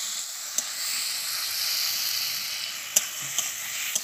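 Pre-fried potatoes being stirred into a sizzling spice mix in a pan, a steady close hiss with a few sharp clicks of the spoon against the pan.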